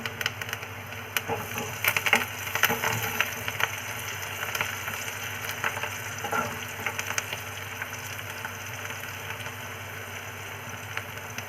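Curry leaves dropped into frying onions in hot oil give a close crackling sizzle, busiest early on and then settling into a steady fry over a constant low hum, with no talk.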